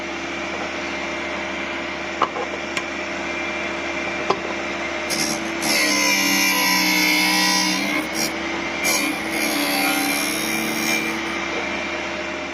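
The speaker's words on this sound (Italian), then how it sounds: "C'è una mola diamantata che fa questo lavoro qua dentro." A drill bit sharpener with an internal diamond wheel grinds a rusty bit. A low electric hum gives way to several seconds of close, harsh grinding and rasping that fades and returns before settling back to the hum.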